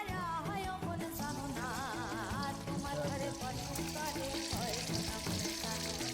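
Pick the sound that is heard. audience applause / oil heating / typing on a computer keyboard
oil heating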